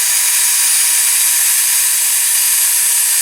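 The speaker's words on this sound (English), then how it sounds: "Got the axle in the drill chuck." A power drill spins a small metal toy axle from a Dinky Toys Bedford TK crash truck against sandpaper, giving a steady loud high-pitched whir with constant abrasive hiss throughout.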